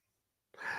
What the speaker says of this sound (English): He's coughing. He's going to sneeze.